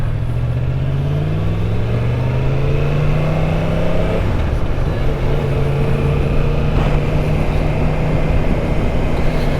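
A Yamaha MT-10 motorcycle accelerates on an open road, its engine note rising through the gears, then dropping at a shift and climbing again under steady wind roar, loud and close.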